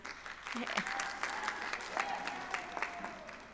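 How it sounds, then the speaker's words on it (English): Applause and cheering for a graduate at a university winter commencement, clapping with whoops from a cheering section and a faint voice underneath, fairly distant. "She's got a cheering section, that's great"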